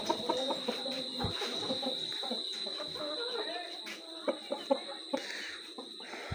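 Aseel rooster of a home-bred fighting line clucking at night in a household coop, a few short sharp clucks near the end over a steady background hiss and light voices.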